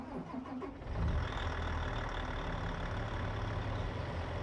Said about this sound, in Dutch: Zo, een zware motor in hoor.